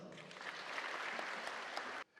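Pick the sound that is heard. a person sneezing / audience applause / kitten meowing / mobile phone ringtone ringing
audience applause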